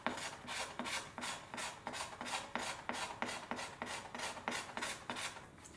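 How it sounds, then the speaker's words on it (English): Repeated scraping strokes strip the old varnish from a cello's wooden surface down to raw wood, a steady rhythm of about a dozen close, rasping passes with no talking. "So I'm removing the varnish that's here, preparing this for a good wood on wood, raw wood to raw wood contact."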